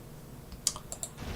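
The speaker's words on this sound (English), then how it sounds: "it went blank because I was typing in passwords" A few quick keystrokes on a computer keyboard while entering passwords, soft close clicks over a faint background hum, brief and without speech.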